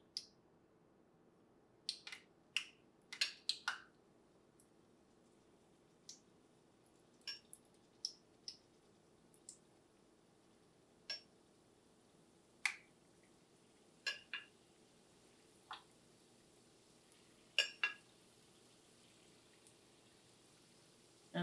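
Strawberry cheesecake egg rolls fry in a pot of hot oil, giving quiet, irregular pops and sharp crackles scattered over a faint hiss, close and sparse, with no talking.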